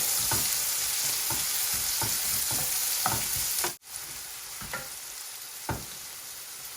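Onions sauté in a pan with a constant close sizzle and periodic spatula scrapes. The sizzle dips briefly at one point, and no one speaks.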